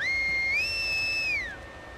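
Scars enemies whistling to each other in the video game The Last of Us Part II: a clear, loud two-tone whistle that rises, holds steady for about a second, then slides down and fades.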